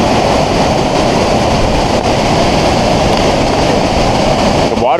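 Burney Falls waterfall with a strong, heavy flow: a loud, steady, unbroken roar of rushing water, close and alone with no voices.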